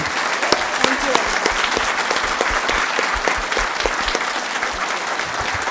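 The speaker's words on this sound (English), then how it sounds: "One more round of applause for this amazing woman." An audience applauds after a Q&A session, a steady wash of many hands clapping with close individual claps standing out, sustained throughout.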